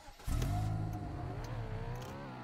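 A Porsche in the Roblox game revs and accelerates, its engine tone climbing steadily after a sudden start, loud and close with no talk over it.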